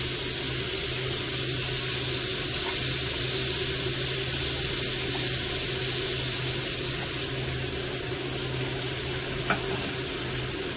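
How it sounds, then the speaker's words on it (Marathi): Water poured into a pan of cooking green pumpkin makes a steady, even rush and hiss that runs unbroken throughout, with no speech. "याच्यात आपण थोडं पाणी टाकूया।"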